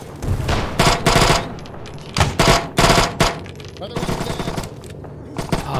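Automatic gunfire in a military video game, loud, close bursts of rapid shots separated by short pauses, with speech mixed in among the firing.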